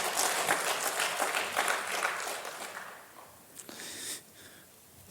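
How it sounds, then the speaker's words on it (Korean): A church congregation applauding during a Sunday worship service, a dense wash of clapping that fades out after about three seconds into quiet room noise with a few scattered claps and shuffles. "한번 이렇게 박수 한번 할까요?"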